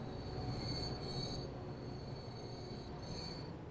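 Trains loading at a station in the Transport Fever video game, with a sustained high metallic wheel squeal over a low rumbling rail drone, the squeal fading and returning, quiet and without talk.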